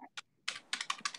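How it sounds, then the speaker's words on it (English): Rapid bursts of typing on a computer keyboard, a few separate key taps followed by a quicker cluster of clicks, close and clear against a quiet background. "I'm typing away."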